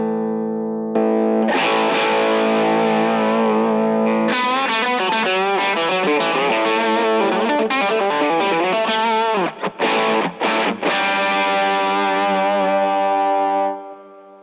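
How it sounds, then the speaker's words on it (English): Electric guitar run through a preamp-style overdrive pedal, playing loud, saturated chords and melodic lines that ring out continuously for about thirteen seconds, with a few quick choppy stops near the end and no voices. "this preamp is more the main overdrive sound"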